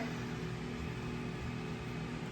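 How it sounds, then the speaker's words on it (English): An air fryer cooking chicken runs in the background with a low, even fan drone and hum, faint and constant throughout. "Excuse the noise in the background. It's chicken cooking in the air fryer."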